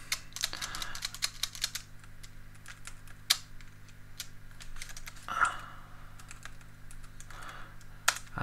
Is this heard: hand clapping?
no